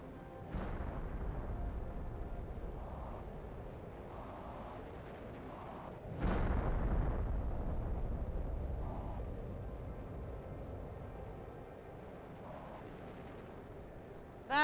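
Rockets falling and exploding in Planet Crafter, one loud booming impact landing close midway and a few fainter distant thuds around it over a low ambient rumble.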